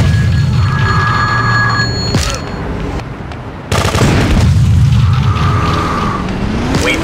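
Rocket launcher explosions in GTA 2, two heavy booming blasts a few seconds apart over a dense, constant game soundscape with a ringing tone and engine rumble, loud and close.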